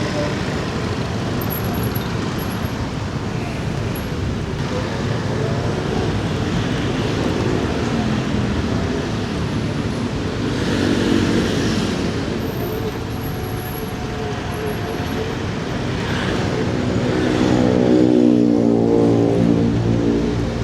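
A motorcycle riding through a traffic jam in Jakarta, with a steady engine drone and a thick wash of road and traffic noise around it, swelling near the end as other vehicles press close.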